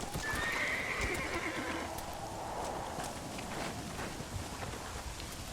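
A horse in the Red Dead Redemption video game whinnies once near the start, then its hooves clip-clop steadily over a soft, rain-like hiss, fairly quiet and continuous.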